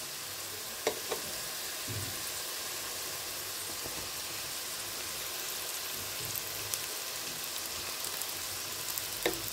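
Rice is stirred with potato and carrot in a hot pan, giving a steady, soft sizzle throughout with occasional light scrapes and clicks of the spoon. No one speaks.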